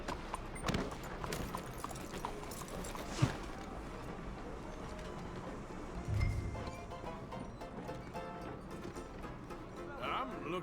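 Horse hooves trotting along in Red Dead Redemption 2, a steady clip-clop rhythm carried under game music and ambience, with a voice speaking over part of it.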